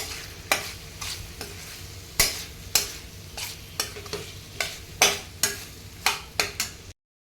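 Onion and tomato masala fries in a pan while a utensil scrapes and stirs it in a steady series of sharp, close strokes over a continuous sizzle.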